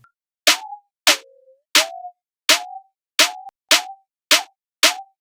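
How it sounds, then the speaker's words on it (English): Eight snare hits strike in a steady pattern, each a sharp crack followed by a short ringing, pitched tail that drops away quickly. "Let me just put a snare here so you can hear what I'm talking about."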